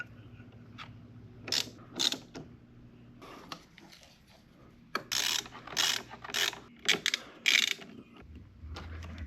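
A hand tool tightens the battery terminals on a Jeep Wrangler, making close ratcheting clicks in several short bursts separated by pauses, with faint background hum.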